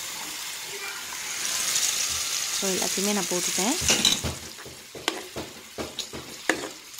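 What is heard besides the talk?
tomato paste frying and being stirred in a pan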